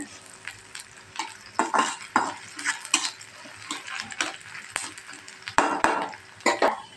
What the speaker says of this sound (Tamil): ரெண்டு காஞ்ச மிளகாவும் இஞ்சி இதையும் போட்டு கொஞ்சம் வதக்கிக்கோங்க